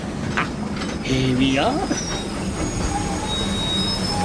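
A train in India pulls into a station with wheels squealing against the rails and a rumble of railway cars, and a voice speaks briefly over the arrival.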